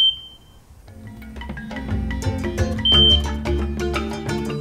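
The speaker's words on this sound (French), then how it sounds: "on va débrancher le câble d'alimentation et vérifier qu'une alarme retentisse" An oxygen concentrator sounds its power-failure alarm after its power cable is unplugged, a steady high electronic tone that starts at once. A louder pulsing beep joins near the three-second mark over the hum and clatter of machinery.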